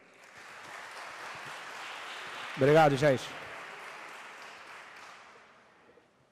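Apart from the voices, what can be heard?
audience applause for a councilman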